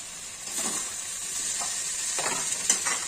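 Frying in ghee while muri ghonto cooks, a bright, steady sizzle nearby with a few soft stirring scrapes and no voices.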